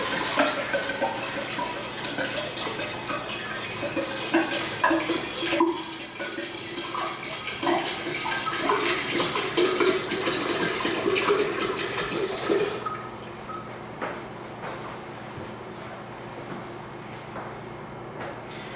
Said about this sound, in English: I'm going to take some water from this flask and pour it into this beaker